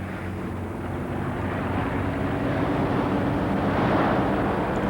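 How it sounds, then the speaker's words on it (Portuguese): Large ocean waves up to three metres high breaking over Amazon sediment banks far out from shore, a steady loud roar that swells gradually toward the end. "Com um barulho ensurdecedor, as ondas estouram."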